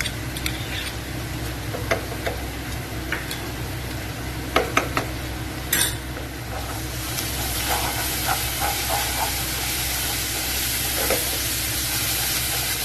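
Ginger and garlic sizzling in hot oil with fried onions and masala for a hotel-style chickpea gravy, a steady close hiss running the whole way with a few brief clinks and stirring scrapes.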